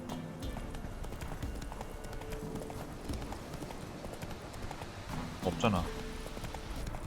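Horse hooves clip-clop at a gallop in The Witcher 3: Wild Hunt, a steady rhythmic beat running under continuous game sounds and someone talking over it.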